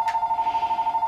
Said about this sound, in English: Sorry for the phone ringing in the background.